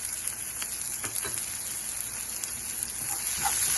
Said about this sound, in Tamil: இப்போ நம்ம சேர்த்துருக்க இஞ்சி பூண்டு வெங்காயம் எல்லாம் நல்லா வதங்கி வரட்டுங்க